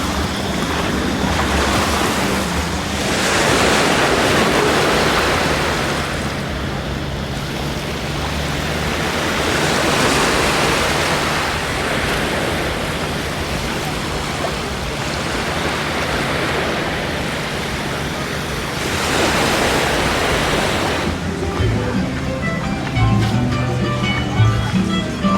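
Ocean waves washing onto Railay Beach in Krabi, Thailand, a broad steady roar of surf swelling and receding in slow surges, with wind buffeting the microphone and faint voices near the end.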